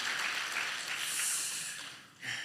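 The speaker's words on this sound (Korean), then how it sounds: "우리 박수로 축하하도록 하겠습니다." Church congregation applauding a member about to marry, with steady, fairly close clapping that thins briefly near the end before a final swell.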